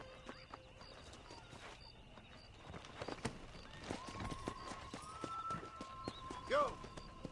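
Hooves of a horse ridden in Red Dead Redemption clop along softly beneath game ambience, growing busier partway through, with a brief whinny-like cry near the end; speech is heard over it.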